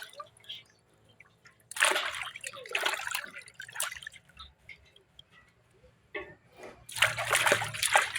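A bougainvillea cutting rinsed with water in bursts of splashing and dripping, close and intermittent, with quiet pauses between pours.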